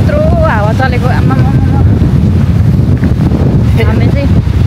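Strong wind near waterfalls and trails buffets the microphone in a constant heavy roar, loud and close throughout, while someone talks over it.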